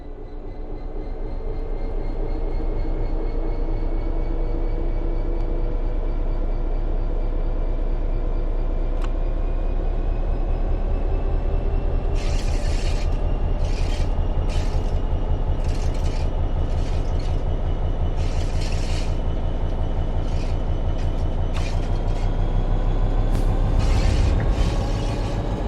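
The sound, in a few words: train starting and moving under throttle, Train Sim World 3 video game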